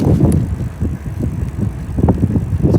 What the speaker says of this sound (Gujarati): ચલો હવે લગાતાર સાયકલ ચલાય.